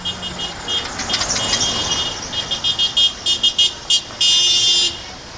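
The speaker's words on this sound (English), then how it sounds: "you can hear cars honking as they're driving by in support." Passing cars honk in support of a Labor Day rally crowd in Kansas City, Missouri, giving a string of short toots that grows into a rapid burst of beeps and ends in one long blast over steady street traffic noise.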